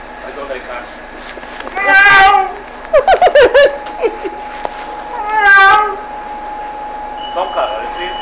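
A man imitates a tomcat's meow outdoors at a bus station, giving several drawn-out, wavering yowls with short choppy vocal bursts between them, loud and close. The rest of the clip has only a low background hum.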